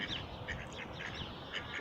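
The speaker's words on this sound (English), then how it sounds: "Here come the ducks." Several ducks quack in repeated, overlapping bursts, fairly close and steady, with no one talking over them.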